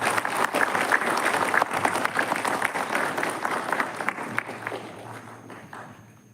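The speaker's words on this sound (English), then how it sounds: "Shall we give a big round of applause?" Audience applause at a live book launch event in Shillong, dense sustained clapping from a crowd filling the whole stretch, steady and fairly loud before tapering slightly toward the end.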